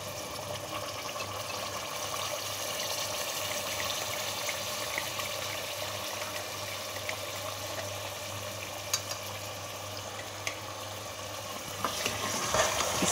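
Steady sizzling of garlic paste frying with cooked beef in a pan, a continuous crackling hiss with occasional small pops and stirring sounds, no talking.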